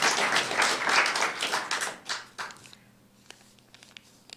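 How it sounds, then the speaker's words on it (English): An open mic night audience breaks into a burst of applause and clapping that peaks early, then fades to a few scattered claps and taps. "I'd like to give them a round of applause."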